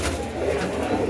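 Flying-breed pigeons coo in a short, soft, throaty burst, close by and heard alone.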